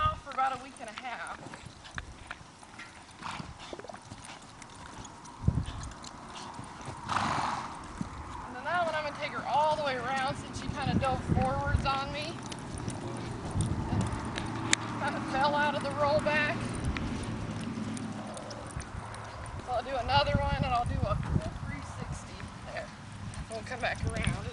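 Hoofbeats clip-clop steadily on soft arena ground as a horse moves around during a barrel racing drill with rollbacks, with a person talking throughout over the rhythmic footfalls.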